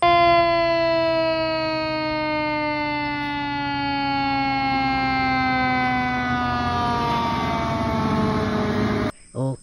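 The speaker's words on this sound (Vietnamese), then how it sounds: "Các bạn ơi, đây là một chiếc xe cứu hỏa này." Toy fire rescue truck siren, a loud electronic wail that sweeps steadily for several seconds before cutting off abruptly, followed by a short click.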